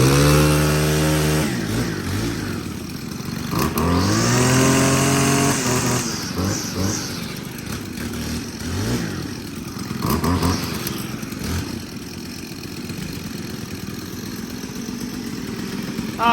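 A Stihl FS91R four-stroke string trimmer engine revs up close, rising from idle to a loud, buzzing high pitch several times before settling back between bursts.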